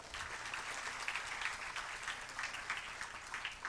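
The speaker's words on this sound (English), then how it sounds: "both of them need a big round of applause" Hall audience at a hackathon inauguration ceremony gives a round of applause for the sponsors, a sustained burst of many hands clapping at an even, moderate level.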